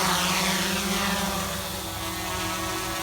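A GoPro Karma drone's motors run at takeoff, a loud, steady whirring buzz of propellers close by that holds level throughout.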